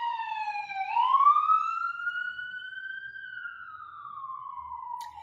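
Outside on a downtown city street, a police siren sounds in long sweeping tones, rising and then gliding down, moderately loud and alone, fading slightly toward the end.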